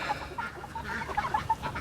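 Meat chickens moved out onto grass pasture cluck and chirp in short, scattered calls, fairly close, with no talk.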